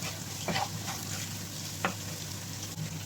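Masala sautéing in a pan with coriander powder, chilli powder and garam masala, a close, continuous low sizzle broken by two or three sharp spoon scrapes against the pan.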